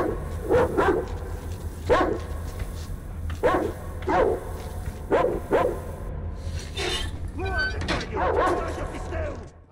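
Dogs bark in the post-apocalyptic shooter Metro Exodus, several sharp barks spaced about a second or two apart, followed by yips and whimpers over a low game ambience, with a voice briefly heard.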